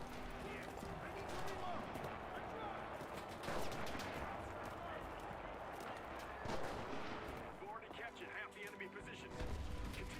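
Full-auto gunfire and explosions fill a battle in the video game Enlisted, Battle of Berlin, with rapid bursts and scattered blasts throughout at fairly low volume under talk.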